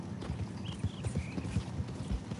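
Horse hooves clip-clop steadily at a walking pace in Red Dead Redemption 2, the rhythmic hoofbeats close and clear over a low ambient bed, with no talking.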